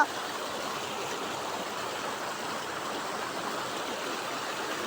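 Floodwater rushes toward villages in a flooded rural area, a steady, dense roar of rushing water like a stream or waterfall that holds at an even level throughout with no break.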